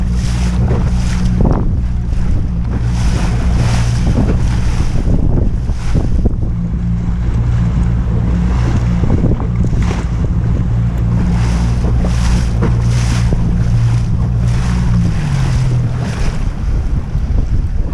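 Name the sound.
wind and waves while sailing on the water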